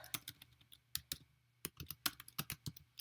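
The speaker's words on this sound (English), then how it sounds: "You write something such as telling the AI, write a poem about Banksy" Fingers type a prompt on a computer keyboard, a quick irregular run of close, crisp key clicks with short pauses and no voices.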